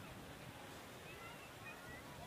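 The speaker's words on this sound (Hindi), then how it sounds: "हवा चलता रहता है" Soft, constant wind blows at Juhu beach in Mumbai, mixed with a faint wash of surf, a low and distant ambient rush.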